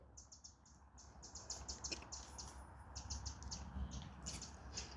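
Birds chirp repeatedly at a railway tunnel by a steelworks in Scunthorpe, with bright, quick tweets in short bursts throughout, heard over steady low outdoor rumble and breeze.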